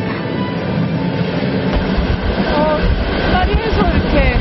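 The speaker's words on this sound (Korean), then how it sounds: "시간을 거슬러 열차가 달려갑니다." A Trans-Siberian Railway train runs through Siberia near Lake Baikal, a continuous close rumble of wheels and carriage with faint squealing tones later on.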